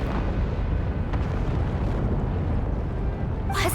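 A volcano erupts with an earthquake in Genshin Impact: a continuous dense, loud rumble fills the scene, with a brighter crackling burst at the end.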